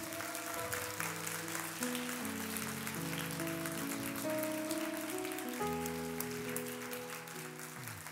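A church youth congregation applauding to welcome young people coming forward for baptism, with a steady, fairly faint patter of clapping over sustained organ or keyboard chords.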